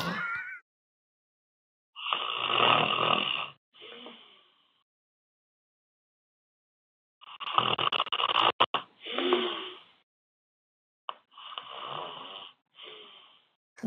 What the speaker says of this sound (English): it's 2 minutes of a guy comically snoring into the mic receiver